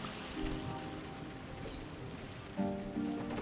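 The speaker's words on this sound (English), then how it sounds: "On New Island, it's always raining." Steady, soft rain falls in the video game Islets as a dense, even hiss, with gentle musical tones entering and fading over it, and no voices.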